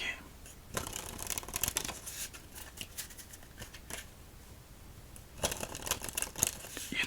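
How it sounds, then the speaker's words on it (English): Playing cards shuffled in two bursts of dense riffling, one early and one near the end, close and crisp with quieter handling between during an ASMR solitaire game. "So let's shuffle up our cards and begin our first game."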